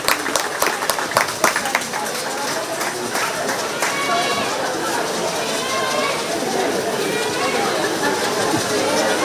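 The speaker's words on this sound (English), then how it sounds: "Let's give both these kids a big round of applause." Spectators at a 4-H/FFA goat show at the 2025 Shelby County Fair break into a round of applause. Sharp claps start the clip, then settle into a steady, busier crowd murmur with an announcer talking over it.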